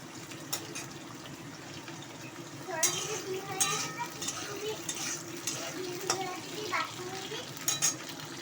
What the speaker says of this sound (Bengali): তেলটা গরম হয়ে গেছে উচ্ছেগুলো আমি ভেজে নেবো এবার